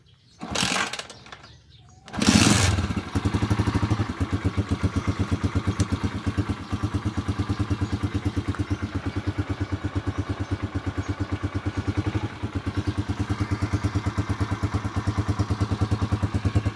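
A Skygo King 150 motorcycle engine cranks with a short burst, catches on a second try, and settles into a steady, close, rapidly pulsing idle that runs evenly to the end.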